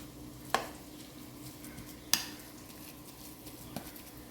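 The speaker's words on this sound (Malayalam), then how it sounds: "ആ പൊട്ടറ്റോ നമുക്ക് നന്നായിട്ടൊന്ന് സ്മാഷ് ചെയ്തെടുക്കാം" Mashed potato for a breakfast dish is stirred and smashed in a pan. There are a few sharp utensil knocks against the cookware over a quiet, soft background.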